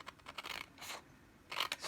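Scissors snipping through cardstock to shape a mini slimline card envelope, a few crisp close-up cuts in quick bursts with brief pauses between, no talking.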